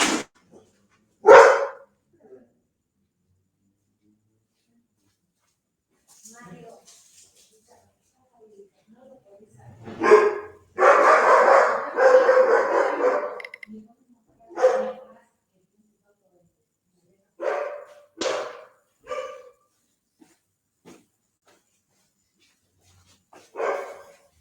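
A dog barks in short, separated bursts indoors, with sparse voices between the barks and long quiet gaps.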